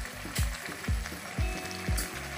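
Thick okra gravy boils hard in a pot, throwing up repeated bubbling plops about twice a second, close up and without talk.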